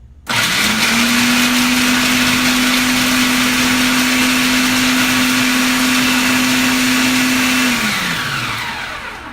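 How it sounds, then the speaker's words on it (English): A food processor pulsing pecans, the motor whirring up sharply to a loud, steady drone for several seconds, then winding down as it stops. "The first thing you're gonna do is you're gonna pulse pecans"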